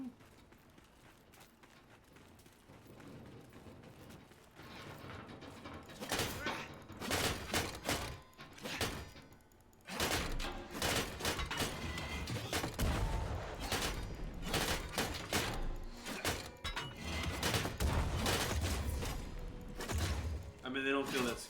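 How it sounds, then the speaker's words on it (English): Cannon fire in the video game Soulframe, heavy booming blasts bursting through a dense, busy mix of gunfire-like impacts and game sounds, with a voice talking over the action. "Here comes the cannon."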